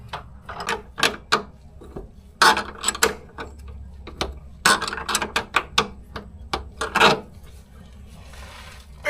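Fuel tank straps being tightened on a 1982 Datsun 280ZX Turbo, a series of short mechanical ratcheting clicks and clunks in irregular bursts, close and fairly clear against a quiet background.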